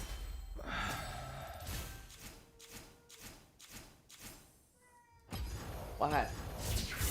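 A house cat meows in a few short, plaintive calls near the end, following a stretch of muffled thumps and room noise.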